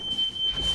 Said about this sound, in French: Tandis qu'il y a une alarme incendie chez moi